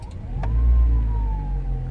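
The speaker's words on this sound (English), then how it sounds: "So to start this CRZ, you need to put it all the way there, make sure the car's in neutral, hold the clutch down, and then you press start" A Honda CR-Z's engine turns over from a push-button start, a deep low rumble swelling and settling into a steady idle, close and alone with no talking.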